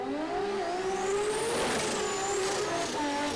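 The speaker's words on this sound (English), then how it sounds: "That is a seriously tough Toyota Straight 6 inside that LC Coupe." Drag race car, an LC coupe with a Toyota straight-six engine, rising and revving at full throttle on a strip, a loud steady engine roar with climbing pitch and no voices.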